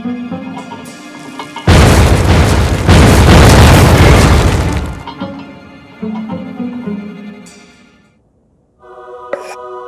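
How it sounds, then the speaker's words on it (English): A heavy bomb explosion in the video game Oceanhorn booms and rumbles for a few seconds, then fades into quieter clanks and background game sounds. "Throw your bomb right there."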